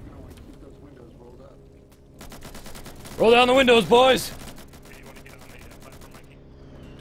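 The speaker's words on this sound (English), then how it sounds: "I hear explosions." Rapid bursts of gunfire and explosions crackle during a beach landing in a cooperative multiplayer shooter game, clustered in the middle of the clip while players talk and shout over the battle.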